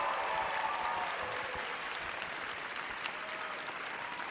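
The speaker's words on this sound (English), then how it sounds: "Let's give them a round of applause." Theater audience applauding the Miss USA contestants at a pageant show, a broad, even roar of clapping that carries on steadily from start to finish.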